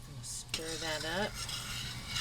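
A spoon scrapes and clinks around a pot of dill pickle brine made with sugar for small-batch canning. There is soft bubbling, a brief squeaky scraping tone in the middle, and a few metallic taps, all fairly quiet.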